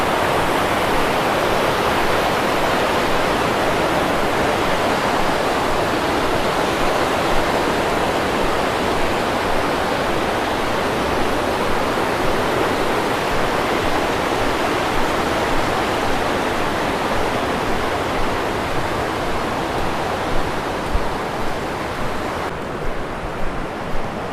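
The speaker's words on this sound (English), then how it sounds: "More really cool rapids." Rapids on the Laurel River rush steadily in a dense, continuous roar of churning whitewater, loud and close throughout with no voices.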